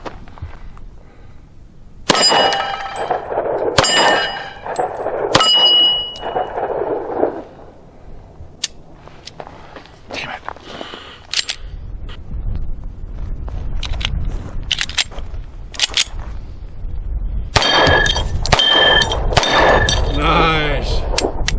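An Astra A-75 .45 ACP pistol is fired one-handed, several sharp, loud reports at irregular intervals followed by ringing echoes, outdoors, with people talking between shots.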